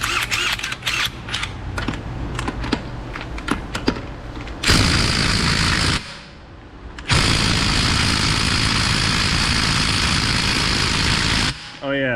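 A pneumatic impact gun hammers loudly on overheated lug nuts, starting with short rattling bursts, then a long continuous rattle, a brief pause, and another sustained run, with a person talking intermittently.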